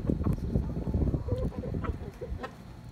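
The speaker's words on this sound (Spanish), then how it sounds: "Esos son mis pollos" Domestic chickens on a rooftop cluck in a busy, overlapping cluster of short calls, fairly close and steady, with no talk over them.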